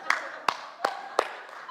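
Four sharp hand claps at a steady, slightly slow rhythm, fairly close and moderately loud, each with a short ringing tail, in a room with no talking over them.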